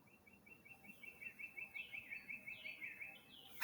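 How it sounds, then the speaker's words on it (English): Faint, high bird chirps repeating in a quick steady series, with a few rising calls toward the end over a quiet background. "you might hear the birds"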